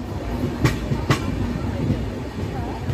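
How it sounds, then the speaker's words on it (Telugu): The Konark Express runs at speed between Pithapuram and Samalkot, with a continuous rumbling rail roar inside the carriage and two sharp wheel-joint clacks early on. "పిఠాపురం నుంచి కూడా మన ట్రైన్ అయితే బయలుదేరిపోయింది"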